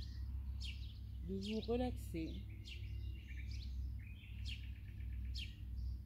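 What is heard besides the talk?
birds singing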